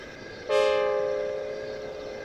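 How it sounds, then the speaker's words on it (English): Steam locomotive whistle in the Trainz railway simulator game, a single sustained tonal blast that starts abruptly and holds steady, loud and close, with no talk. "Peep, peep, peep, here we are, whistled Thomas"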